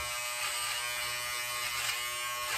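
Electric hair clippers with an 8 guard buzz steadily and close, a continuous whine as they barely cut while trimming a beard.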